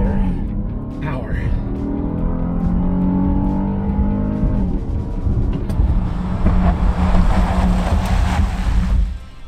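A car on all-season tires accelerating hard from 0 to 60 mph, its engine note rising and dropping through gear changes close by inside the cabin, with someone talking over the engine.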